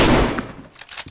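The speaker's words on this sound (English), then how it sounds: "I just shot him" A gunshot in the survival game DayZ, fired at a fresh spawn carrying a small machine gun: one sharp, loud blast with a decaying tail, then a few fainter clicks and thuds.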